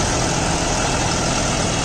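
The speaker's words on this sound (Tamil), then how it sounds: "அந்த சிஆர்டி மாடல் ரொம்ப ஃப்ரீயாக ஓடுற மாதிரி இருக்குது" John Deere 5405 CRDI tractor engine runs at a steady, loud drone, close and constant throughout with no breaks and no voices.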